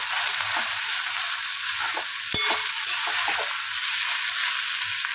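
Broad bean curry with jaggery and chaat masala sizzles steadily in a pan while being mixed, with a faint scrape and one sharp knock near the middle.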